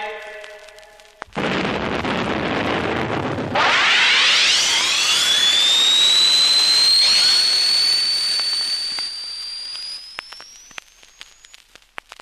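An atomic rocket engine launches in the animated Tintin story Destination Moon: a sudden loud blast swells into a sustained roar with a rising high whine that holds steady, then fades away.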